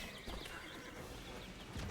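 A horse neighs and whinnies in the online role-playing game Black Desert Online, a loud close call over hoof clip-clop and busy game noise, with a fresh burst near the end.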